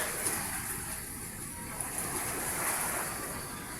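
Faint, distant ocean surf rolls in a continuous low wash, with a breezy hiss and an occasional soft splash.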